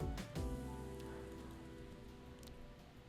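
Rain skill effect from the video game Solo Leveling: Arise, a soft synthetic patter of falling rain with a couple of sharp tonal hits near the start, then a steady, quiet wash fading out.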